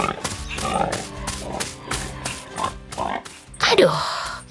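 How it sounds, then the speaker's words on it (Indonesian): Cartoon pink pigs playing around a red and white barn with hay, a run of rhythmic oinks and grunts over background music, ending in a louder squeal. "Babi-babi berwarna pink sedang bermain di sekitar gudang merah putih dengan tumpukan hai kuning."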